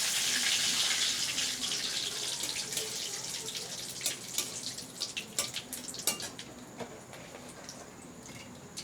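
Whole spices, bay leaves and dried chillies hit hot oil in a pan, giving a loud hissing sizzle that gradually settles into scattered pops and crackles, close up with no talking.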